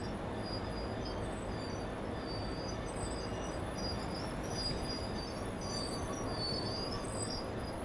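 A freight locomotive rolls past in the Train Sim World 4 video game near Doncaster, a steady, continuous rumble of wheels on rails with high metallic squeals drifting over it throughout.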